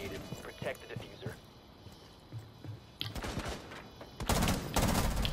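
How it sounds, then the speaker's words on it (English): Sharp gunshots crack in Rainbow Six Siege, scattered single shots early on, then louder, denser bursts of fire toward the end, mixed with footsteps and a speaking voice. "I shot her through the thing"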